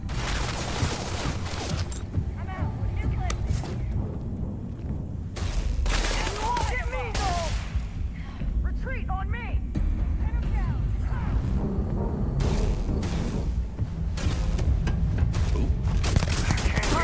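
Gun firing in Starfield, rapid bursts of gunshots in repeated volleys across the whole stretch, loud and close, with someone talking over parts of the shooting and other combat sounds between bursts.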